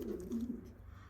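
Pigeon chicks in a loft give a soft, low coo, quiet and close, lasting about a second.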